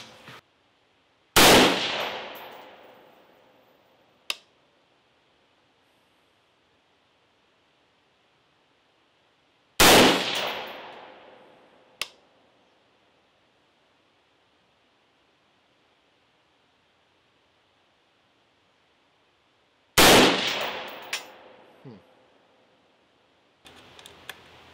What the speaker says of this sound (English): take a couple shots at 100 yards and see what difference there is